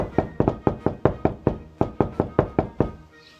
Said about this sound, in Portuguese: Chegaram na casa, bateram a porta